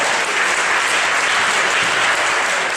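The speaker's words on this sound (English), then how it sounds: "give a massive round of applause to every single candidate who ran the elections this year" Dense, sustained applause from a large audience at a university students' union election results night, steady and loud for the whole stretch with no voices standing out.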